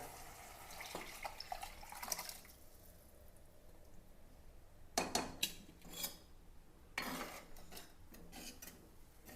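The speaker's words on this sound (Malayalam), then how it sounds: "ഇതിലേക്ക് ആ പുളിയും വെള്ളവും കൂടി അങ്ങോട്ട് ഒഴിച്ചു കൊടുക്കാം" Tamarind water is poured into softened masala paste for a Kerala fish curry, giving splashy pours in two bursts midway, with a few utensil clinks before them and no talk.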